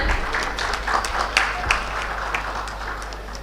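An audience at a railway and transportation expo session claps during a token-of-gratitude presentation, with scattered individual claps over a low steady hum from the hall.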